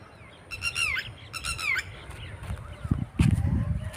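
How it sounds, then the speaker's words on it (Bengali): A bird out over open farmland with cattle gives two loud, harsh squawking calls in quick succession, followed by quieter rustling and faint thumps nearby. "একটা পাখি ডাকছি।"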